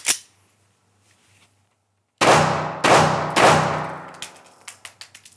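A Glock 48 pistol fires 147 grain ammunition outdoors: after a sharp report at the start and a pause, three loud, evenly spaced shots ring out with long reverberant tails, followed by fainter clinks.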